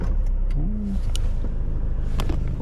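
A Mini Clubman R55 turns over in freezing weather, its engine cranking and then running as a steady loud rumble with a rising rev, close by and alone with no talk.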